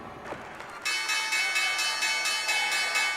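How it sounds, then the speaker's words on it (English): The Wall Street closing bell rings at the New York Stock Exchange as a loud, sustained metallic clanging that starts abruptly after a moment of background noise and continues steadily, with no talking. "The Red Cross rang the closing bell on Wall Street"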